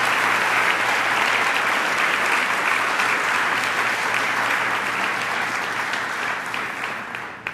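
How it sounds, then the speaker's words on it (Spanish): A church congregation bursts into loud, sustained applause for the Lord, a steady, even wash of many hands clapping that holds throughout and tapers slightly at the close. "Dale un fuerte aplauso al Señor."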